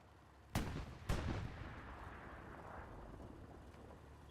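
Two heavy tank cannon shots boom from a 76 gun toward a Panther during a Winter War league match in a video game, the blasts half a second apart, loud and deep, each rolling off into a long rumbling tail.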